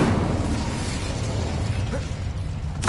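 A fire spell cast in Hogwarts Legacy: a steady, roaring rush of flame noise runs throughout, ending in a sharp, bright burst.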